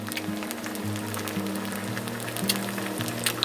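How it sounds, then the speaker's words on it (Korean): Food fries crisp in a pan at a spring campsite, soft sizzling and scattered pops under a low steady background hum. "겉에를 바삭하게 튀겨서 먹어."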